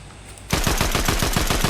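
Gunfire in the Fortnite video game: after a brief quiet moment, a loud, close burst of rapid automatic shots in an even, fast rhythm, about a dozen in quick succession.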